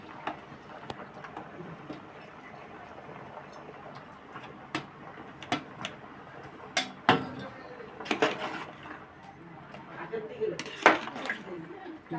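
Potatoes go into a pot of goat curry and the lid is put on, scattered metallic clinks and clanks of utensils and lid over ongoing talk.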